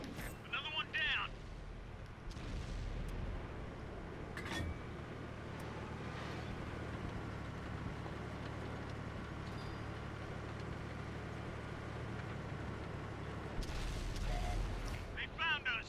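A T54 tank's cannon booms in a video game as a few muffled, heavy reports over a constant low engine rumble, with voices at times.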